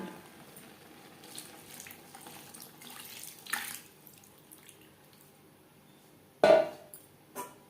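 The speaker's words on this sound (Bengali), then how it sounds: "যেই পাত্র করে মটরশুঁটি ম্যাশ করেছিলাম সেটা ধুয়ে আমি জল অ্যাড করলাম" Water pours from a rinsed bowl into a cooking pot of simmering peas: soft trickles and drips, then a louder splash near the end, close and with no voices.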